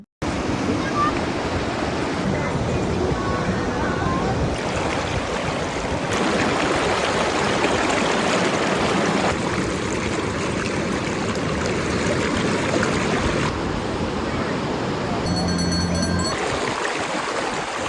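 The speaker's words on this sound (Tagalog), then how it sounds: "ipaparinig ko nga sa inyo ang agos ng tubig" Steady, broadband rush of the Palakol River flowing, continuous and fairly loud throughout, with no talking over it.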